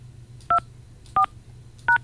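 Telephone keypad DTMF tones, three short evenly spaced beeps from a caller entering a password during a radio call-in, clear and loud over a low steady hum.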